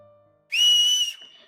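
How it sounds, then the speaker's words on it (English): A single sharp, crisp whistle blown out of a window: one loud, clear, high tone held for just over half a second, then cut off abruptly. "walks to the window and whistles. It was sharp and crisp, able to hear it even from miles away."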